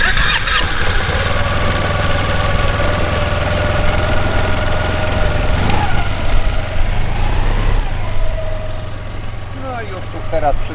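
A paramotor engine starts and idles loudly and steadily close by, a constant buzzing drone with a low hum beneath and a few clicks and bumps.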